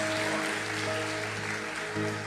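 A church congregation applauds in praise to Jesus, a continuous wash of clapping over a sustained tonal hum.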